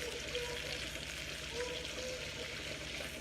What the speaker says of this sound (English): we want to just continually stir around that shrimp until they get cooked